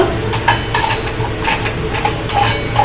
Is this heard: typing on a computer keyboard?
no